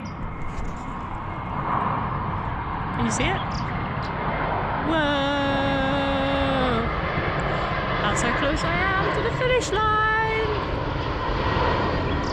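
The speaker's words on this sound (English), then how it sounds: "here comes a big massive airplane. This is going to be really noisy for a second." A large airplane passes low overhead with a loud, sustained engine roar filling the whole stretch, heard on a coastal walking trail. A person speaks excitedly throughout, close to the microphone, over the noise.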